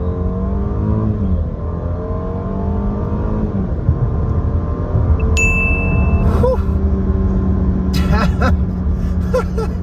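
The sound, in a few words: 2019 Jaguar XF accelerating hard on motorway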